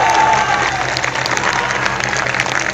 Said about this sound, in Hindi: उस तरह की तालियां बजनी चाहिए